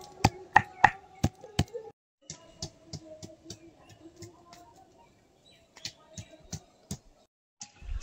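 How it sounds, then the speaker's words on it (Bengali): Ripe mango being pounded and crushed by hand for a tangy, spicy mango paste, a run of sharp, close knocks clustered at the start, then scattered softer thumps and scraping at an irregular pace, with no one speaking. "আমটা একটু থেতো করে নিচ্ছি"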